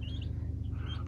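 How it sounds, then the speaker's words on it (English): Thin, high chirps from two turkey poults, two short peeps over a constant low hum. "Two little turkeys"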